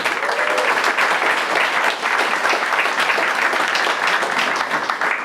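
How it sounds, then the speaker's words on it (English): Sustained, loud applause from an audience at a hospital behavioral health unit ribbon cutting, a dense, steady wash of many hands clapping that continues at full strength throughout without pause. "Thank you for the applause"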